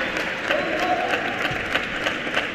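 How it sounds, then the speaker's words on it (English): A crowd at a table tennis match claps steadily and vigorously, a dense, even patter of applause filling the arena with no pause. "The clapping as well, there's a there's a ferocity to it."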